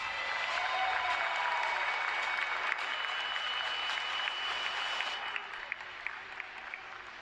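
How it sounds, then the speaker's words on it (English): Applause from an audience at an EWC chess tournament quarter-final, a broad continuous clatter of hands that holds level and then thins into scattered claps near the end. "please can I have a round of applause for Hikaru Nakamura?"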